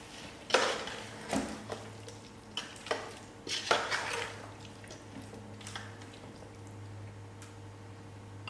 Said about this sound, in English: I give it a good stir and let it cook for a further 5 minutes.